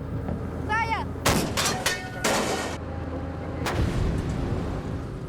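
South African Army artillery pieces fire during a large military exercise, several loud booming blasts in quick succession followed by another a moment later, with a faint voice shouting early on.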